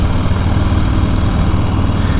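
A 2022 Harley-Davidson Street Bob 114 motorcycle engine drones steadily at close range, a loud low rumble with no talk over it.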